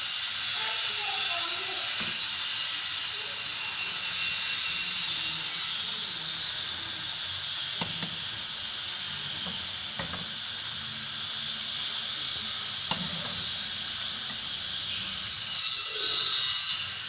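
Puri frying in hot oil gives a steady bright sizzling hiss throughout, with faint clicks and soft background sounds beneath.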